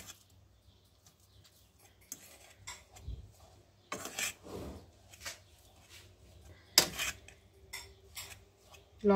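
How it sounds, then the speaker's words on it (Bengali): A fork mashes boiled potatoes mixed with fried raw onion, green chili and salt in a bowl, making quiet, intermittent scrapes and taps against the dish in uneven bursts. "কাঁটা চামচ দিয়ে ইজিভাবে আলু ভর্তা করা যায়"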